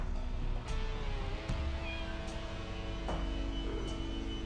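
A cat meows in the point-and-click game Deponia, a few short mews over a busy, steady game soundtrack with light ticking, moderately loud and without voices.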